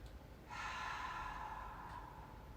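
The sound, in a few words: breathing in through the nose and exhaling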